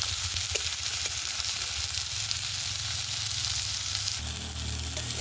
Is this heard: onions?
yes